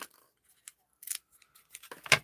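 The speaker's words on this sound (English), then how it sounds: "The idea is to keep this moving while you're moving those scissors." Scissors snip around a paper circle for a drum-shaped Christmas ornament craft, making a few short crisp cuts that build to a louder, closer snip near the end, with no talking.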